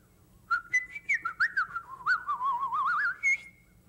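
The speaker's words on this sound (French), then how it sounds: "peux siffler en faisant sortir de l'air" A person whistles by blowing air out, a bright warbling melody with sliding pitch and quick trills, close and alone with no talk.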